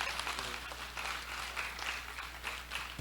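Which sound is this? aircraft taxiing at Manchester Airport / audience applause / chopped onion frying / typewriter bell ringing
audience applause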